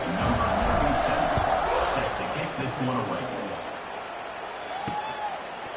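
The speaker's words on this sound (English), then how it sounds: "You can hear this home crowd going bananas." Home crowd at a Stanford vs NC State football game roaring after a punt return, a loud sustained stadium din that slowly eases, with a commentator talking over it.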